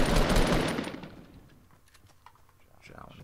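Fortnite gunfire crackles in a dense rapid burst up front, then fades to scattered faint clicks and shots before a small flurry returns near the end.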